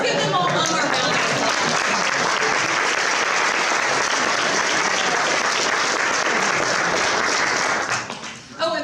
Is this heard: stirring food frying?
no